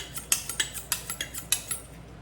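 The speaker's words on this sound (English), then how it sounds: "when you use a steel, you're not actually sharpening your knife, you're just honing the edge" A knife is honed on a sharpening steel before filleting striped bass, with about ten quick, bright metallic swipes in a steady rhythm, close and clear with no talking.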